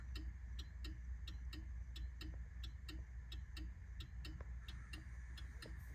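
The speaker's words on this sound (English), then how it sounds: "This car does have turn signals." The turn signal of a 1947 Dodge Town Sedan with a flathead six ticks steadily inside the cabin, a faint, even click repeating roughly twice a second with no talking.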